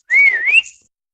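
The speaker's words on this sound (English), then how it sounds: "Whistle." A single short whistle from a person, clear and close, wavering slightly in pitch for about half a second before stopping into silence.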